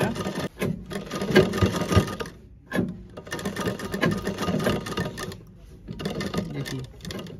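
A sewing machine stitches a kurta in close, steady whirring runs broken by brief pauses, with faint talk underneath.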